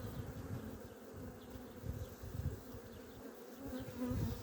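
Low, steady buzzing of many honeybees close by on hive frames, a dense continuous hum that swells slightly, with no voices.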